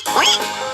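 A single short duck quack from a farm animal stacking game for kids, loud, close and alone.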